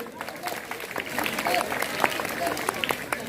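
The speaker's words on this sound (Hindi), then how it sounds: "जोरदार तालियां इनके लिए।" At a government high school's Independence Day celebration, the crowd gives moderate, somewhat scattered applause that swells a little midway, with voices murmuring underneath.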